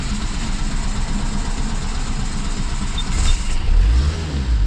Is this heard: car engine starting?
yes